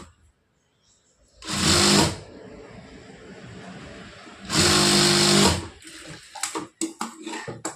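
A sewing machine stitching a blouse in two steady whirring bursts of about a second each, loud and close, followed by lighter clicks and handling noises.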